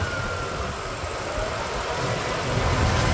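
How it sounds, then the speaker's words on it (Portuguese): A Mitsubishi Pajero Dakar V6 flex-fuel engine runs at a steady idle just after starting, a continuous broadband rumble heard up close and alone. "E aqui está a usina de força V6 Mitsubishi. Vamos escutar essa melodia."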